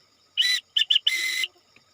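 A shrill whistle blows a Morse code pattern: one long blast, two quick short pips, then another long blast, close and loud against near silence.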